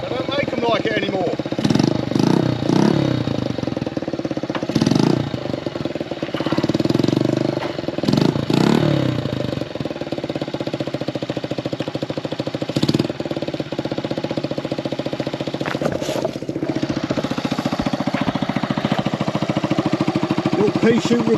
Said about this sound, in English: Pea shooter exhaust.